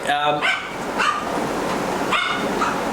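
A shop dog barks close by a few times, sharp yelps spaced irregularly with a noisy background between them.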